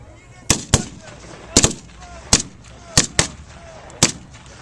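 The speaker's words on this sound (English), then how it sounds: "Fire team now is laying down a base of fire." Sharp rifle and machine gun shots ring out during a Marine assault on a bunker backed by a Sherman tank, about ten loud reports in irregular pairs and singles with a faint ambient rumble between them.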